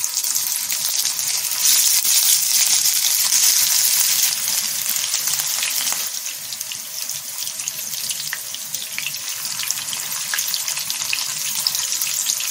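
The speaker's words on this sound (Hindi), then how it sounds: "तेल हमारा अच्छी तरह से गर्म हो चुका है और अब इसमें कोफ्ते डालेंगे।" Koftas sizzle and fry in hot oil in a home kitchen, a steady loud hiss that stays close and continuous throughout, easing a little partway through, with no talking.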